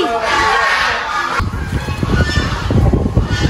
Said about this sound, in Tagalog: Ingay ng mga gansa.